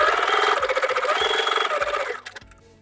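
A sewing machine quilts a diamond grid line, its needle running in a fast steady mechanical rhythm up close for about two seconds before it slows and stops.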